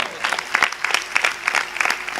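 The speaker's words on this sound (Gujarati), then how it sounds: "એક વખત ભુજ મંદિરને આ સેવા માટે જોરદાર તાળીઓથી વધાવો" An audience at a Gujarati folk-literature program claps in a short burst of dense, moderately loud applause, with uneven peaks of claps.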